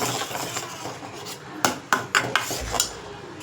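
A spoon stirs thick carrot halwa with butter in a pan: soft scraping and rubbing at first, then a run of sharper knocks and clinks against the metal, close and moderately loud, with no talk.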